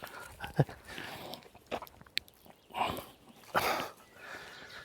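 Dogs moving about on a rural farmstead, with soft scuffling, snuffling and intermittent chewing or gnawing noises close by, plus brief bursts of rustling and movement, fairly quiet overall.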